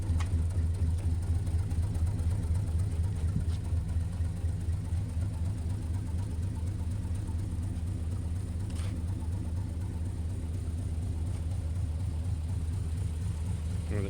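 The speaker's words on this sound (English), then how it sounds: "It's got Flowmaster exhaust. Sounds pretty cool. It's a little bit of a beast." A 1971 Chevy K20 4x4 pickup's V8 idles through a Flowmaster exhaust with a deep, steady burbling rumble that stays even and unbroken throughout.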